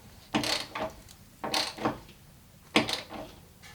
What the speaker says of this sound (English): take a 12 millimeter and go ahead and tighten the one that we loosened